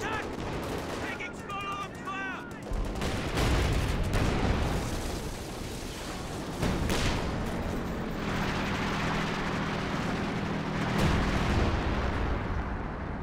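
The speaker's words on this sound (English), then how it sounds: "Second howitzer going up in the back." Howitzer artillery fire in the World War II strategy game Company of Heroes 2, heavy booming blasts and rumbling gunfire filling the mix continuously, with a commentator's voice running underneath.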